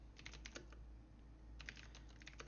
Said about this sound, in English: Go ahead and type it out again fresh this time.